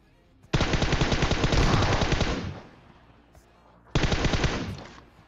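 Uzi submachine gun fire in the PUBG Mobile game: a long rapid-fire burst of about two seconds, a short gap, then a second burst, sharp and loud.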